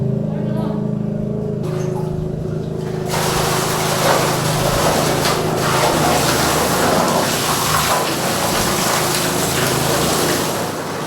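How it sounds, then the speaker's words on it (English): A pump runs steadily while fresh water gushes into a cistern tank, a continuous loud rush of flowing water with a low motor hum beneath. "While the fresh water is going into the tank, I turned on the pump"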